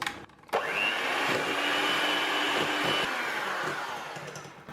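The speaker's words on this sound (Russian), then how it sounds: "И хорошо все взбиваю, чтобы растерся сахар с маслом" Electric hand whisks beat butter with sugar in a bowl for a strawberry tres leches cake, a loud steady motor whine that starts after a brief pause and runs continuously, fading a little at the end.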